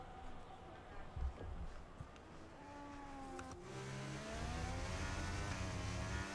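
Race cars on a formation lap at a wet Silverstone in a racing video game drone and rev together, engine tones rising as the pack pulls away, growing louder toward the end.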